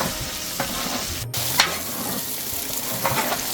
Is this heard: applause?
no